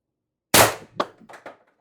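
An Umarex TR50 air rifle running on HPA fires a single shot, a sharp, close crack followed by a few quick metallic rattles and clanks that fade within a second.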